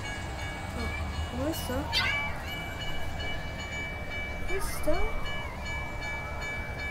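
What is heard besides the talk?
train passing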